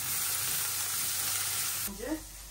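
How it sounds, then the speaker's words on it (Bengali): Bitter gourd fries in a pan with a dense, even sizzle and hiss for most of the span, then the sound cuts abruptly to a quieter moment with a brief tonal sound. "আর এই যে এখন আবার উচ্ছে ভাজিটা বসাই দিছি"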